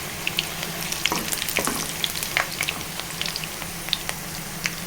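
Boiled eggs fry to golden in hot oil for egg pulusu, giving a steady, close crackling sizzle dotted with small pops and spits.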